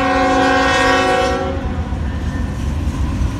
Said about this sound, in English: that's a train that comes southbound area